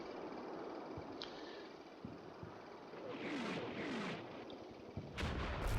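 Artillery barrage in the WWII strategy game Combat Mission: Battle for Normandy, with several distant booms and whistling incoming shells under a steady rumble, ending in a louder close impact.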